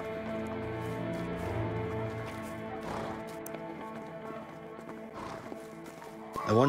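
Horse hooves clip-clop in the video game A Way Out, a steady rhythmic clatter of steps at moderate distance set within layered game ambience and music, with a short louder sound at the end.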